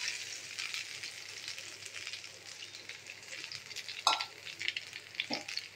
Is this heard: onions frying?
yes